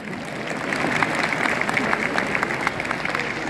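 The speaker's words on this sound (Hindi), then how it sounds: "ताली बजा दो।" Seminar audience clapping in a large hall, a fairly loud, dense patter of many hands with some sharper individual claps standing out, continuous throughout.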